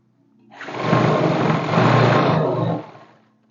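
A sewing machine stitches trousers in one short run, the motor whir swelling up, holding for about two seconds, then winding down to quiet.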